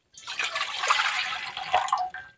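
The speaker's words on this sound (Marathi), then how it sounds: "आपल्याला या पातेल्यामध्ये आता पाणी ठेवायचं आहे" Water pours from a container into a steel pot set on a gas stove, a close gurgling, splashing stream lasting about two seconds before tapering off, with no talking.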